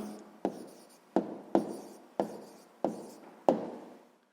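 A pencil writes the answer 72 by hand on paper, a quiet run of short scratchy strokes, each starting with a tap and fading, about seven in all, close and alone.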